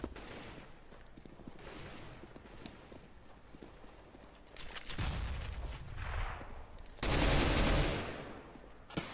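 Gunfire in the video game CS:GO, with scattered shots and a louder burst near the end, mixed into busy match noise.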